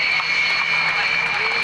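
A Sukhoi jet flying an airshow display at Coningsby in 1993, a loud steady engine roar with a high whine, under a commentator's voice.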